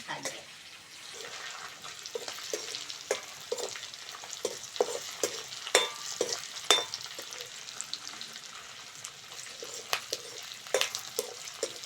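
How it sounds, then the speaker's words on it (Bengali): Fish fat fries in hot oil in a pan with a steady, crackling sizzle and scattered sharp pops, continuous throughout and fairly close, with faint stirring and a little background noise. "তেল ভাজা হয়ে গেছে তুলে নেবো"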